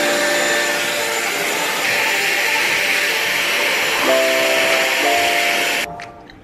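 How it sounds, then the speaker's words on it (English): A Dyson Airwrap rough-dries hair with a loud, steady whooshing roar of blown air and a faint high whine, its pitch shifting slightly before the blower cuts off near the end. "So I'm just gonna rough blow dry it first."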